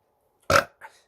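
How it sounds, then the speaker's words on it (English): One short, loud burp stands alone against silence, followed by a fainter second gulping rasp. "Stop fucking burping."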